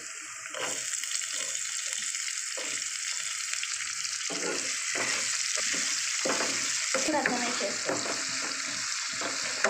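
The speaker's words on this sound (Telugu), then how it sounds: "ఆనియన్స్ బ్రౌన్ కలర్ వచ్చేంత వరకు వేయించుకోవాలి" Thinly sliced onions and green chilies fry in oil, a loud, unbroken crackling sizzle that runs throughout with faint stirring scrapes and no talk.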